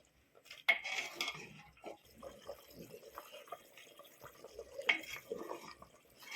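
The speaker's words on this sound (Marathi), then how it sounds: "अजून थोडं उकळून घेऊ." Chicken curry simmering in a pot in a village-style kitchen gives a soft, quiet bubbling with light drips, broken by a couple of sharp clinks of a utensil against the metal pot.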